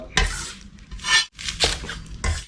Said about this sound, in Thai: เพิ่มอุณหภูมิน้ำมัน เพื่อเพิ่มความกรอบรวมถึงการไล่น้ำมันนะครับ